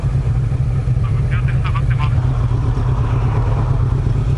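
A motorcycle passes during a touring ride, its brief whine rising and falling over the steady low drone of a nearby engine, with people talking.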